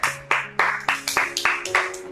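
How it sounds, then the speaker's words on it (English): A church congregation claps together in praise during a sermon, about eight sharp, evenly spaced unison claps ringing out over a faint sustained musical tone. "And give a clap of praise for Jesus."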